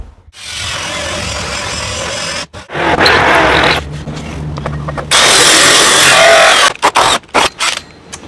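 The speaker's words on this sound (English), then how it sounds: "So I'm going to drill this hole out for this outlet" Loud power drill boring a hole through wood for an outlet in several bursts, with whining, grinding, and short pauses between runs, ending in quick stop-start pulses.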